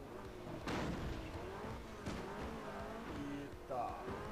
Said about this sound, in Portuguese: Então, vou bater o carro aqui.